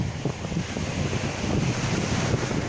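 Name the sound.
sea waves and wind at the Azov Sea beach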